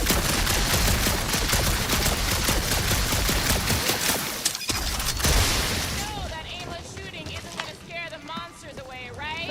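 Dense rapid gunfire and blasts fill the first half of a Guardians of the Galaxy video game combat scene, fading to calmer game ambience with scattered sounds afterward.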